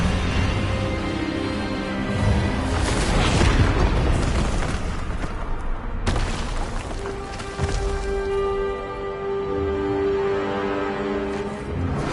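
An Expelliarmus spell is cast in the video game Hogwarts Legacy, with a loud booming magical blast that swells and then decays into a rumbling tail, followed by a sustained tonal ring.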